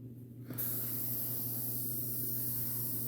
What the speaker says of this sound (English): These paints do like to clog my airbrush a lot.